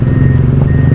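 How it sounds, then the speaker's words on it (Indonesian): A dredging truck backs up at a canal bridge works, its steady reversing beeper tone held over a loud, continuous engine rumble. "Truknya kurang mundur."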